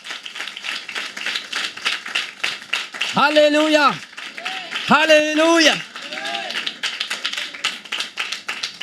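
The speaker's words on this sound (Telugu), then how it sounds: "Big claps for Jesus." Church congregation clapping for Jesus during a Sunday sermon, a continuous rapid patter of many hands at moderate loudness, while a voice sings out a drawn-out exclamation twice over the clapping.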